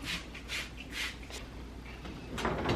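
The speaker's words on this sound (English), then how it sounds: "How do you get this drawer out?" A refrigerator drawer is pulled out during a messy fridge clean-out, with a few scraping, rattling bursts of plastic sliding against plastic and a louder clatter at the end, close by.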